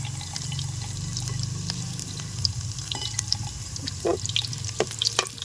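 Excess frying oil is poured off a pan just used to fry fish, a soft trickling and faint sizzling over a low background hum, with a few small clinks.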